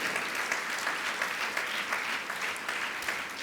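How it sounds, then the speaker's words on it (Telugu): A church congregation claps together in sustained, dense applause that fills the whole stretch at steady loudness, with no talk over it. "దేవుడే జయమిస్తాడన్న వాళ్ళు ఒకసారి చప్పట్లు కొట్టండి"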